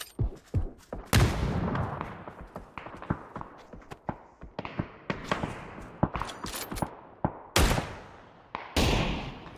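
Gunfire in a Poland versus Ukraine video game match comes in rapid bursts and single shots, loud and close, with short gaps and scattered footsteps-like clatter between volleys.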